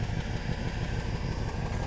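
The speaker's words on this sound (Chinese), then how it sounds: "我们引擎是在发动状态" Beneath a Mercedes W126 560SEL near the fuel pump, its engine idles quietly and evenly, a faint steady low rumble with no talking.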